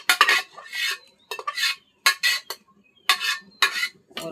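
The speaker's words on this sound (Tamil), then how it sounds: "இப்போ இதில் இந்த பருப்பை எடுத்து ஊற்றுறோம்." Spoon scraping and clinking against a pot while lentils are poured into spinach sambar and stirred, coming in several short bursts with brief pauses between them, close up, with no voices.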